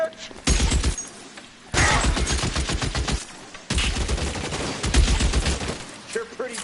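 Gunfire in the detective game L.A. Noire, loud bursts of rapid shots in three long volleys separated by short pauses.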